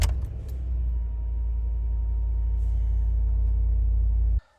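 A Ford Lincoln car engine runs with a deep, steady low rumble close by after a brief start-up burst, holding a constant idle before cutting off abruptly at the end.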